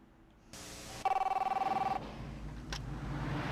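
A car phone rings in a Burger King commercial, a rapid electronic trill repeating about a dozen times over roughly a second, close and clear, followed by background noise with no speech.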